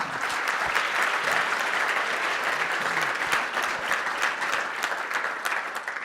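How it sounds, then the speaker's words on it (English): An audience at a keynote Q&A session breaks into sustained applause, a dense, even wash of many hands clapping that holds steady for about six seconds with no pauses. "So, can we give them a round of applause"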